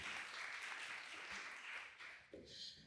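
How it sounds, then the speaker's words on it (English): Brief, faint applause from a seated audience at the National PPI Festival launch at the Royal College of Surgeons in Ireland, a soft wash of clapping that tapers off after a couple of seconds. "Round of applause maybe for Fergal."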